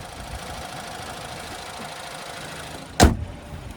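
The 2-liter turbocharged four-cylinder engine of a 2025 Chevy Blazer idles with a low, steady hum, then a sharp brief thump or clunk near the end.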